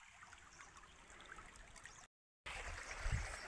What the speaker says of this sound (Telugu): ఇప్పుడైతే నీళ్ళు వస్తుంది చూడండి.